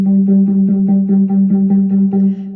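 A monophonic synthesizer patch called NatCon Pulse, played on a keyboard, repeats a steady pulsing tone about five times a second, one held note throbbing in a tight loud rhythm with no voices over it.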